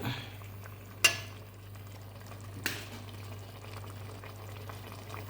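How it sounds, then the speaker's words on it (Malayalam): Rice water for ghee rice gently boils in a pot, a faint, steady low bubbling with a constant hum beneath and two brief sharp clicks, no voices. "ചെറുതായിട്ട് തിളക്കുന്നുണ്ട്."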